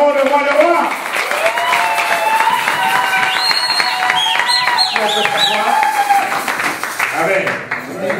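A church congregation applauds and cheers in worship, with continuous clapping under several voices singing or calling out together at full, near volume.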